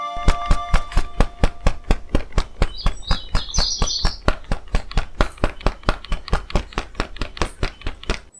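A cartoon bird in a Hindi children's story chirps with a brief high trill over a fast, steady series of loud tapping beats, repeated evenly from start to finish.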